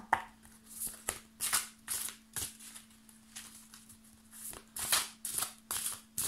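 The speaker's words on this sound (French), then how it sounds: "Donc je vais commencer par encore mélanger les cartes." A deck of cards is shuffled close by in a steady run of riffling bursts, roughly one every half second, over a faint constant electrical hum.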